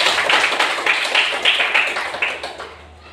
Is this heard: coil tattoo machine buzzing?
no